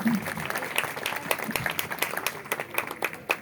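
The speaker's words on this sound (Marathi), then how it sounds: "या तिघांसाठी स्पेशल टाळ्या होऊन जाऊ" A round of applause at a Ram Mandir program, steady clapping from a small crowd that holds for a few seconds.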